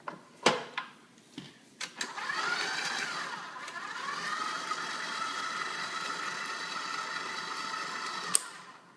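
An electric mixer beats banana bread batter on a slow setting, a steady motor whir with a few clunks at the start and then an even drone that runs for several seconds, fairly quiet and without speech.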